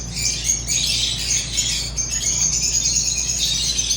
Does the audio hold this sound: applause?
no